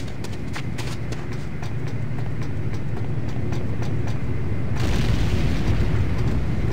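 A structure explodes in the Renegade video game, a Command & Conquer shooter: a continuous low rumble with a regular ticking on top, then a broader roaring swell near the end, loud and close, with no speech.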